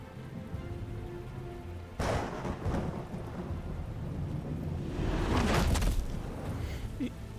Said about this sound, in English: Oh, would you look at that? It's raining.